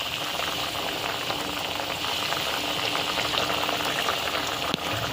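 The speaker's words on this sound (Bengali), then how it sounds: "এবার ভালো করে মাছগুলো ফুটিয়ে নেব" Rohu fish curry with green chillies bubbling in a pan, a steady close simmering and popping of boiling liquid throughout, with one brief knock near the end and no talk.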